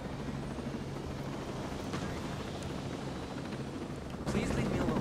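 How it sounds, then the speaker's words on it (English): A helicopter in the video game Ghost Recon Breakpoint gives a steady low rotor rumble, constant and moderately distant, growing louder and fuller near the end, with faint speech-like sounds in the mix. "Is there a helicopter here?"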